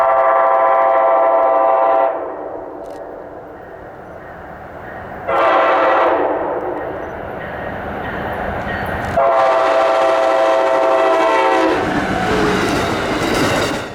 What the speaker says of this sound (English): Amtrak's tri-weekly eastbound Cardinal was passing through